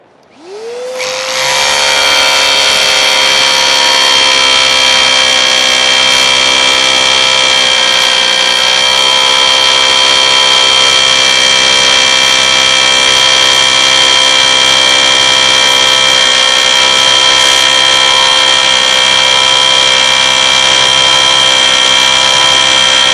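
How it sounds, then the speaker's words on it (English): A power drill bores a hole into a concrete slab, a loud, steady high-pitched whine that spins up in the first second and holds constant and close for over twenty seconds, with no talk. "So once you have the hole drilled"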